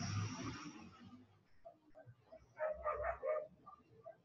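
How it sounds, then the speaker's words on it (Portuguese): A dog barks at a passing garbage truck: soft muffled yips and barks come in a quick cluster in the middle, after a burst of broadband noise at the start, all fairly faint and distant. "a Karina late bastante com os caminhões"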